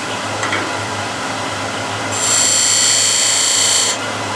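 Hand sanding of a fine detail, a steady dry rasping that swells louder and brighter midway for a couple of seconds before easing back, close and alone.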